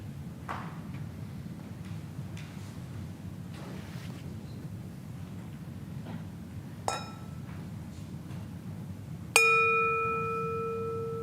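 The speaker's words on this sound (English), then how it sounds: "signal the beginning and the end of the meditation using this gong." A meditation gong is struck twice during a retreat, a small tap followed by a loud ringing strike that hangs and slowly decays over quiet room noise.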